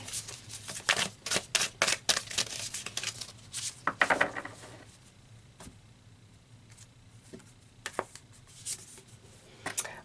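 Oracle cards are handled and a card is drawn: quiet papery shuffles, flicks and soft taps come in clustered bursts, then thin out to sparse clicks.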